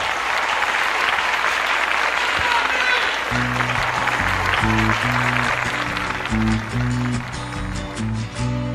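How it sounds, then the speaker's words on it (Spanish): A crowd applauds loudly and steadily for a singer taking the stage, with music starting partway through: a bass-heavy band beat and chords come in under the continuing clapping. "La recibimos con un aplauso, por favor."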